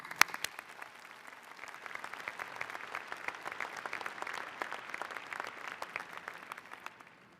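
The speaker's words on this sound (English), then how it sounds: "So please give a warm round of applause to all our distinguished guests." Sustained applause from a commencement crowd at Ohio University's spring 2023 graduation, steady dense clapping at moderate distance, lasting several seconds before tapering off at the end.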